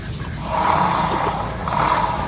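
Rear wheel of a Suzuki Burgman Street scooter turned by hand with a noisy drive, giving a rough mechanical whirring grind that swells and fades over a couple of seconds, close and steady.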